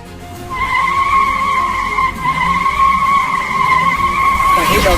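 A cartoon flying car spins round and round with a loud, sustained tire-skid squeal over a rumbling motor, a voice talking beneath it.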